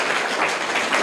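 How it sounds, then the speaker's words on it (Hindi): An audience at an event gives a child a steady round of applause, a dense, close wash of clapping hands that holds evenly throughout with no voices over it. "बहुत बहुत बढ़िया, बहुत बहादुर बच्चे, तालियां हो जाए इनके लिए।"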